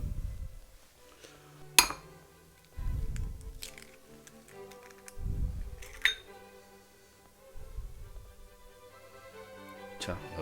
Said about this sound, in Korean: 계란 2개는 노른자만 넣겠습니다